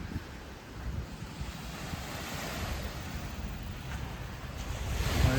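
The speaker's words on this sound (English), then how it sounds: "let's head down to the beach" Waves wash onto a beach in Malaysia with a continuous rushing surf, mixed with wind buffeting the microphone and swelling slightly louder toward the end. No voices are present.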